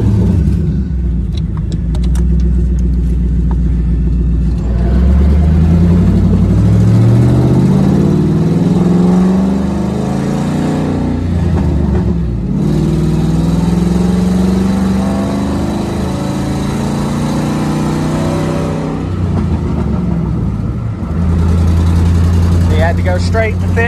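A Ford Mustang GT with a small exhaust leak rumbles at close range, its engine pitch climbing in repeated revs and then settling to a deep idle, while people talk over it.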